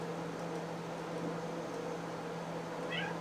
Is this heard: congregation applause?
no